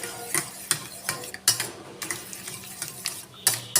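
Eggs mixed with Maggi masala are beaten briskly in a bowl, giving quick repeated clinks and scrapes of a utensil against the bowl in an uneven rhythm, close and fairly soft.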